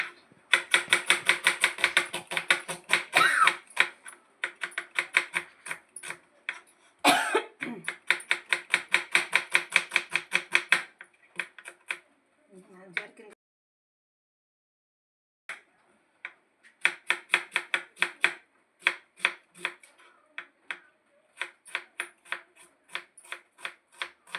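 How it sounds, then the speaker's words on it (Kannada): A knife chops onions lengthwise on a board in fast, crisp bursts of rhythmic taps, pausing briefly between runs, close and clear with no talk. "ಉದ್ದುದ್ದಕ್ಕೆ ಈರುಳ್ಳಿನ ಹೆಚ್ಚಿಟ್ಕೋಬೇಕು"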